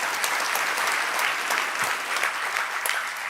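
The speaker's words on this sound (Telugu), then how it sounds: "చప్పట్లు కొట్టాలనిపించలేదా?" Church congregation applauding during a Wednesday service, a dense, continuous burst of clapping from many hands, loud and close with a faint voice underneath.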